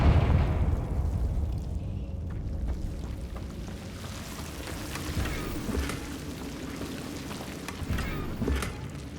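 Fiery Confringo spell blasts in Hogwarts Legacy, a crackling, bursting roar that opens loud and keeps rumbling with scattered pops and debris over about nine seconds.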